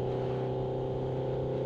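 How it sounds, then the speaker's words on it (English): A scooter passing by, a steady droning engine whir with a constant pitch, fairly faint and heard alone without any talk. "are you on a scooter?"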